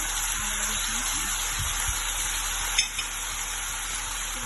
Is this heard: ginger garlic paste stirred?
yes